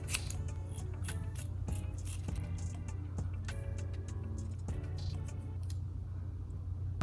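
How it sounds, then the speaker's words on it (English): Scissors snip through the synthetic hair of a wig, cutting it diagonally, with several separate crisp cuts spaced across the stretch over a low steady background hum; no talking. "I'm just gonna cut it like diagonally."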